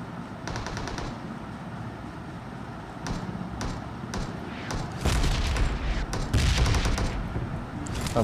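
Gunfire in Battlegrounds Mobile India: rapid bursts of rifle and machine-gun shots with booming reports, loud and dense across the whole stretch, heaviest toward the end.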